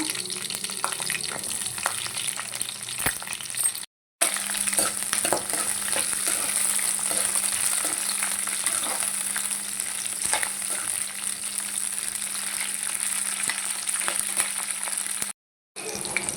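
Green chillies frying in a pan for a greens chutney, a steady close sizzle running throughout with light stirring scrapes, broken by two brief silent gaps.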